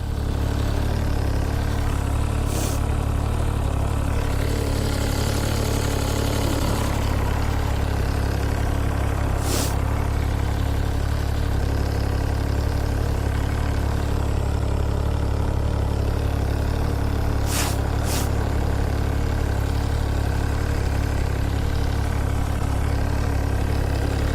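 Triumph Street Triple motorcycle engine idling with a faulty cam chain tensioner, a steady low drone with a continuous mechanical rattle, close and unbroken, with a few brief sharp ticks.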